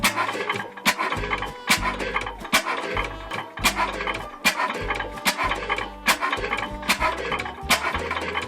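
An old Ruston Hornsby oil engine chugs steadily up close, with loud rhythmic firing beats and clattering mechanical knocks repeating roughly once a second throughout.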